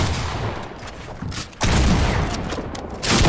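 Dense, loud gunfire bursts from Fortnite combat, a sustained rattling barrage with a brief dip before another heavy volley, close and dominant throughout.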